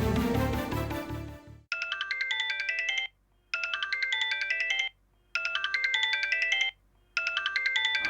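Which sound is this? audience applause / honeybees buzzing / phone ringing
phone ringing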